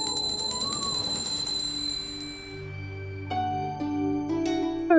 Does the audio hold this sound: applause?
no